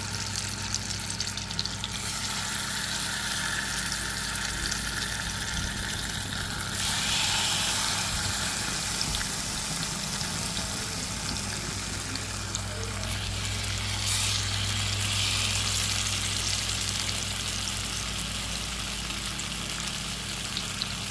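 Steady sizzle of frying in two spoons of ghee in a pan, a continuous crackling hiss that stays fairly close and even throughout, with a low hum underneath and no talking.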